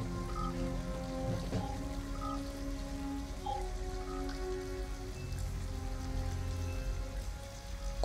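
Rain falls steadily in Detroit: Become Human outside an abandoned house, a continuous close hiss and patter with faint musical tones drifting underneath and no talking.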